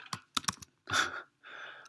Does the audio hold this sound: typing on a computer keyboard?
yes